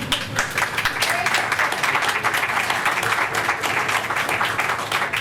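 A dense round of audience applause at a Historical Society gathering, steady and loud for the whole stretch with many hands clapping at once and no break.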